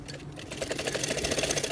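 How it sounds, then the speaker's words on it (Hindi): A sewing machine runs fast while stitching a kameez, a close, rapid mechanical chatter of needle strokes continuing steadily with no voices. "तो ये अभी तो इसकी सिलाई को यहाँ से डबल करेंगे ताकि काज निकले ना"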